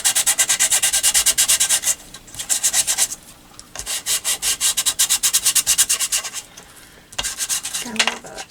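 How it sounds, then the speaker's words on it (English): Sandpaper rubs back and forth across a notebook cover to dull its shine, a bright rasping scrape in quick regular strokes, pausing twice before resuming, close and alone. "Well, first let me sand it."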